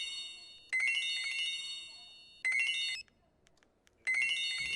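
A mobile phone ringtone chimes in a clinic, sounding in three loud melodic bursts separated by short pauses, with no talking over it.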